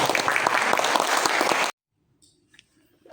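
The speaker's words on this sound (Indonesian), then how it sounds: "Kita beri aplaus untuk Pak Modiono." Audience at a teacher orientation seminar in Surakarta claps for a presenter, a burst of loud, dense applause that cuts off abruptly after under two seconds, followed by near silence with a few faint sounds.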